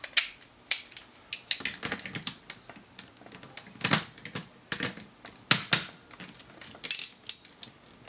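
Plastic clicks and ratcheting snaps from a Kyoryuzin toy robot dinosaur as its mouth mechanism is worked open, a quick irregular series of sharp close clicks with no talking.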